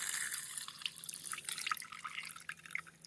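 Water being pushed through a cheap portable filter from puddle water, a faint patter of drips and trickles falling in quick irregular succession.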